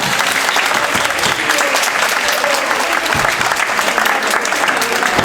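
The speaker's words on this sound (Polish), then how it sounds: "Wielkie brawa." A crowd at a festival award ceremony gives dense, loud, sustained applause that carries on steadily from start to finish with no talk on top.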